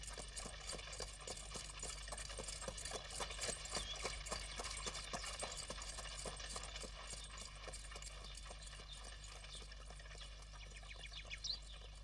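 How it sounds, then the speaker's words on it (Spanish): A horse runs along a country road with hooves clip-clopping in a fast, steady rhythm, joined by a constant low rumble and light rattling, close and continuous with no talk. "Este caballo corre más que un galgo"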